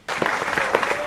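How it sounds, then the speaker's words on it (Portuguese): A single person clapping hands indoors, a short run of close, sharp claps starting abruptly and continuing steadily in an uneven rhythm. "Palmas"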